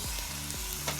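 Chopped tomatoes go into a pan of sizzling, caramelized onions for a bitter melon stir-fry, with a steady loud frying hiss and a few stirring scrapes close by.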